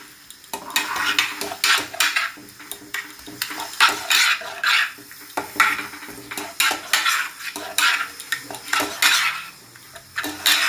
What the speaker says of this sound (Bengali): এটাকে ভালোভাবে মশলার সাথে কষিয়ে নিচ্ছি